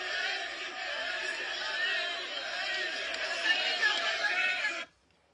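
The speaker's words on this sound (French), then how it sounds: "Vous voyez la foule?" A large crowd at a political rally makes a sustained, steady roar of many voices and cheers, then cuts off abruptly.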